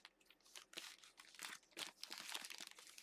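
Crinkly plastic packaging of a monthly crochet kit being snipped and torn open with small scissors, a close run of crisp crunches and rustles over about three seconds with no talking.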